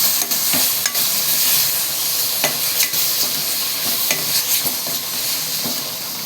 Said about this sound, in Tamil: நல்லா வதக்கலாம்.